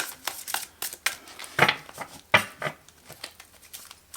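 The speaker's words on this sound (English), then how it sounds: "Last shuffle." Tarot cards are shuffled in quick riffles and taps, a run of crisp papery flutters and snaps close up with no talking.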